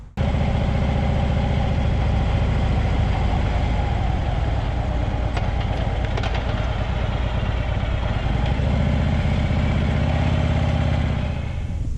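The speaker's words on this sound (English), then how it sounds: "We got there on the bike." A motorcycle engine idles steadily, loud and close, with a constant low rumble for about twelve seconds and no talk.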